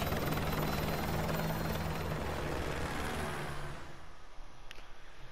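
A helicopter in the Call of Duty Modern Warfare 2 campaign gives a loud, steady rotor and engine roar that eases slightly toward the end, with no voices over it.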